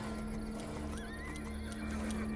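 A horse in the Roblox Wild West video game whinnies with a rising, wavering call over steady clip-clop hoofbeats, both continuous and close against a constant game hum.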